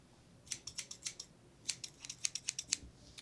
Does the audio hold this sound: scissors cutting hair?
yes